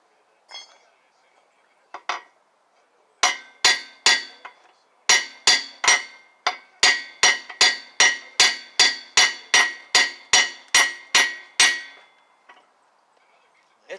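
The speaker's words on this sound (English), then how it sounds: "I'm gonna do some more hammering on it." Metal hammering on parts of a failed engine: a few scattered strikes, then a steady run of about fifteen loud, ringing clanks at an even rhythm, close by, before stopping.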